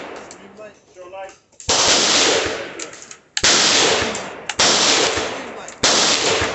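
Several loud bursts of rapid gunfire from AR and AK pistols crash out one after another, each a sharp onset trailing into a dense rattle. Indistinct talk comes briefly before the first burst.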